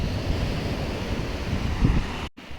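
Strong sea waves surging at Kudle Beach, Gokarna, Karnataka, a constant loud roar of surf mixed with wind buffeting the microphone, with one brief dropout near the end.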